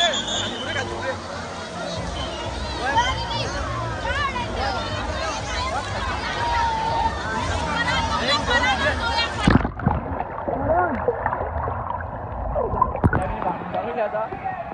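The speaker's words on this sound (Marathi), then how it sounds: "लाटा बघा तुम्ही, लाटा लाटा खाती" Sea waves slosh and splash around a small boat, with a crowd of people chattering and calling out throughout; the broad wash of water and voices is loud at first and quieter after about ten seconds.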